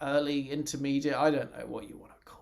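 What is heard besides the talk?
No everyday noise stands out behind the speech.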